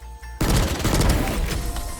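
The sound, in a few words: Bulldog rifle burst fire in Valorant (video game)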